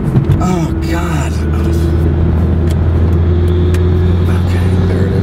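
Turbocharged engine of a 1994 Toyota Celica GT-Four while driving, a steady low drone with a humming tone inside the cabin and someone speaking briefly at the start.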